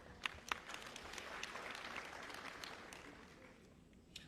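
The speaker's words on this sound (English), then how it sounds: "A round of applause, ladies and gentlemen." Audience applause at a resilience campaign conference in Freetown, Sierra Leone: a steady spread of clapping across a hall, with a few sharper claps near the start, fading out toward the end.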